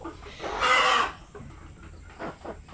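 A broody Shamo Asil hen gives one loud, close burst of clucking, then a few softer, shorter clucks.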